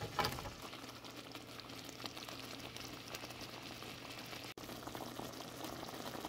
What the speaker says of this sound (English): Let them swim around the sauce. Just simmer them.